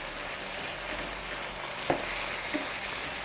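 Chicken and lime fried rice cooking in a pan, a steady even sizzle with one sharp clack and a fainter knock, close and moderate in level.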